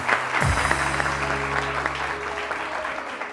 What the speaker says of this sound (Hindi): बहुत सारी तालियां इनके लिए जी।